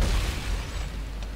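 A loud grenade-launcher blast booms in Dead Space 3, a heavy explosion at the start that rumbles and fades into crackling debris over about a second.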